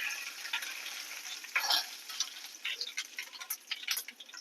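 Fenugreek and mustard seeds frying in hot oil, a thin sizzle dotted with sharp crackles and pops that grow quicker and more irregular toward the end, close and moderately loud.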